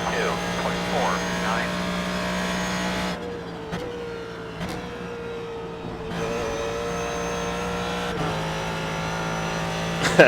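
Race car engine in the iRacing sim driving over bumps through a set of S-curves, a steady droning tone with pitch shifts and brief dips, continuous and fairly loud throughout.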